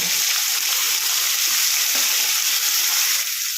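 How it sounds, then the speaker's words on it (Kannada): Onions fry in hot oil with mustard seeds and cumin, a loud, dense, unbroken sizzle close up that holds steady throughout with no pauses. "ಈರುಳ್ಳಿ ಒಂದು ಕಪ್ ಆಗೋಕ್ಕೆ ಇದ್ದೀನಿ ಹೀಗೆ ಎಲ್ಲ ಫ್ರೈ ಮಾಡ್ಕೊಳ್ಳೋಣ"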